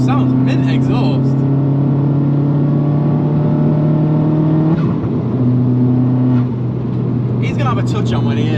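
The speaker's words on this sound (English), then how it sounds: "Exhaust sounds great well. Little pops on gear change and that." A Vauxhall Zafira GSI accelerates hard through the gears, its exhaust note climbing steadily and then cutting out with a small pop at a gear change before it pulls again. Voices talk over it inside the car.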